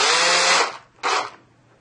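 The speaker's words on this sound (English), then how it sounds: "And we're going to drill it out." Power drill boring tungsten putty out of a dart barrel: a loud sustained whir for about three quarters of a second, then a second shorter burst after a brief pause, close up with no talk.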